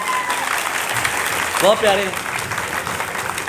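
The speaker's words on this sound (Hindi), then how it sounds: "ईसा के लिए बहुत सी तालियां होनी चाहिए" Applause at a mushaira for a small child, a steady, moderately loud spread of clapping as a voice speaks briefly over it midway through.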